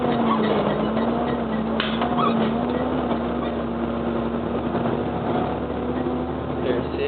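A Volvo FH sugarcane truck's engine drones steadily and loudly while climbing uphill as the driver shifts into third low gear, a constant low hum with faint voice-like murmur underneath.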